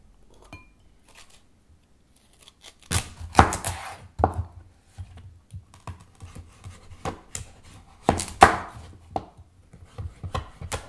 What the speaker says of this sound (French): On a découpé notre petit potimarron. On a les 300 g en cubes.